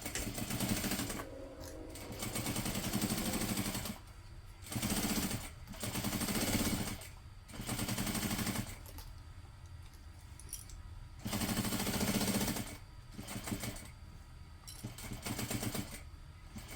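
A sewing machine stitches the bottom panel onto a large canvas tote, running in several loud bursts of steady mechanical whirring separated by short pauses, close by with no talking.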